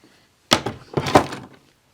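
A cabinet door fitted with a Blum Inserta 71B3690 half-crank hinge for 110-degree opening thunks into place, with a close, sharp knock followed by a second heavier clunk and short rattle, no voices.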